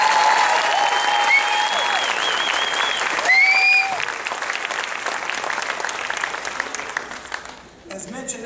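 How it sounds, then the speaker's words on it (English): Audience applause after a fifth-grade honor choir performance at a school event, with sustained loud clapping and a few cheers and whistles for most of the clip, thinning out near the end. "Let's give those guys another round of applause."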